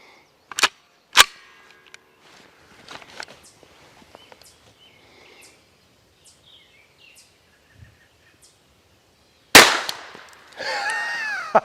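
A Mech Tech CCU conversion firing hollow point rounds gives two sharp, loud shots close together. Quiet clanks and handling noises follow, then a third loud report with a brief ringing tail.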